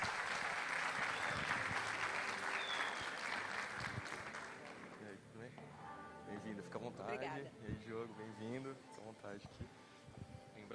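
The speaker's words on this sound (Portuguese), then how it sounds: "Uma salva de palmas, por favor, para os nossos primeiros convidados" Audience at a university sports summit applauds the first guests, with full, sustained clapping that fades after about five seconds as a presenter begins speaking over a quieter room.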